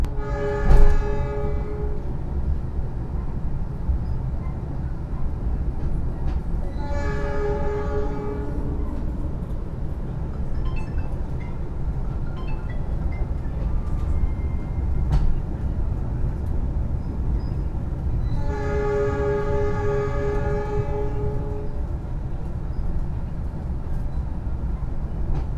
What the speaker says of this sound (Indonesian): untuk naik kereta api panoramik ini